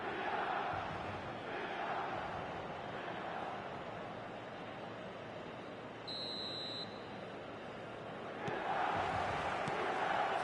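A stadium crowd in a football video game roars steadily before kick-off, a broad, distant wash of noise that swells near the end, with a short electronic beep sounding midway.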